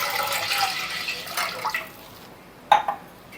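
Water poured into a ragi flour mix for a drink, heard as a soft liquid splashing and trickling, with a brief sharper splash near the end, close by and with no one talking.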